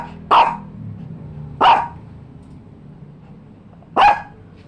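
A dog barks three times close by, loud single woofs spaced a second or two apart over a quiet indoor background with low rumble.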